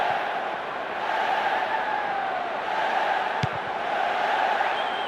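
A stadium crowd in the PES 2008 football game gives a steady, moderately loud roar of cheering and murmur that holds without a break, with no distinct speech on top.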